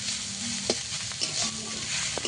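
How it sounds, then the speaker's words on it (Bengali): Steady sizzling of drumstick (moringa) greens frying in a pan, with intermittent scraping and clinking as they are stirred, a few sharp taps standing out. "অনবরত নেড়ে চেড়ে একটু শাকটাকে ভেজে নেব"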